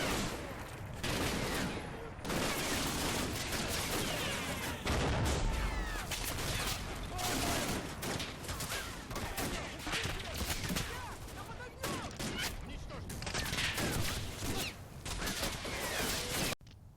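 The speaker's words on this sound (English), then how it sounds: "The assault culminates in the following turn when the enemy infantry gets close enough to pelt our gun with machine gun fire as well as grenades." Machine gun fire and grenade blasts from the Combat Mission: Red Thunder war game rattle in repeated bursts and sharp cracks throughout, fairly quiet overall, with no talking.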